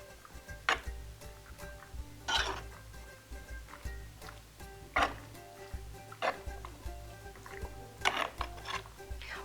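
Pasta salad with garlic, lemon and salt being stirred in a bowl, a series of scraping, clinking strokes in an irregular rhythm, fairly close and quiet, with no speech.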